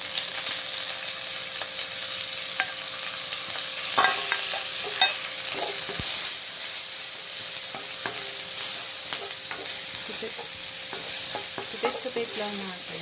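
Garlic and onion sauté in hot cooking oil in a pan, giving a steady, close sizzle throughout, with faint stirring and scraping now and then.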